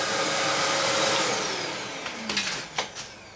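A Karcher WD3 wet and dry vacuum cleaner drones loudly and steadily up close while sucking up debris including bits of stick, with a few short rattling clatters near the end as pieces are drawn in.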